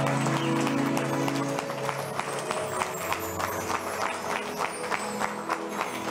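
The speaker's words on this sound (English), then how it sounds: "Keep on clapping." A church audience claps continuously at an honouring service, a dense patter of many hands with low music or crowd murmur beneath.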